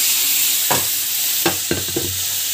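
Spinach greens frying in a pan give a steady bright sizzle, broken by a few sharp spatula scrapes and stirring knocks that come close together near the end, with no voices.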